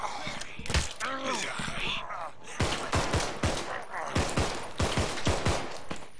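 Rapid bursts of gunfire in the video game Millenium crack out in clustered volleys of sharp shots, some near and loud, while a voice talks over the shooting throughout.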